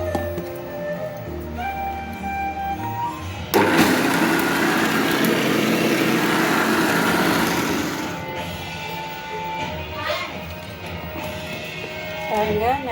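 A mixer grinder blends ridge gourd peel and pirandai chutney ingredients with curry leaves and coriander, a loud dense whir starting abruptly and running steadily for several seconds before cutting out, with kitchen noises around it.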